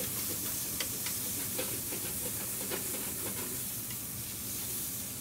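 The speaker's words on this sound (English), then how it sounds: "And saute this really good for a minute or two to bring out the flavors of all the vegetables." Chopped celery, onions and garlic with oxtail sautéing in a pan, giving a steady, fairly quiet sizzling hiss with faint crackles and no talk.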